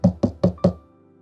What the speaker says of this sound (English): I knocked on the president's office door with a sliver of hope